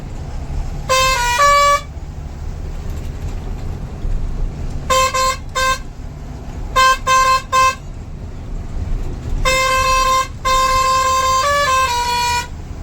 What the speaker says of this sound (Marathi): कसं वाजतंय हॉर्न आता